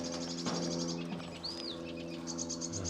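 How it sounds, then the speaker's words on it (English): A sedge warbler sings unseen from dense cover at an RSPB wetland reserve in May, its faint, scratchy chirps and trills set against soft ambient background noise. "There's a sedge warbler in there. I can hear it, I can't see it."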